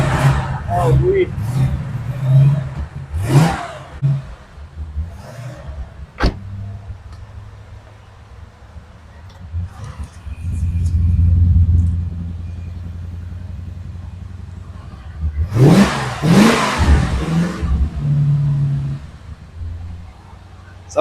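A Chevrolet Corvette engine revs in short bursts, a deep rumbling roar rising twice between quieter idling stretches, with people talking before and after each burst.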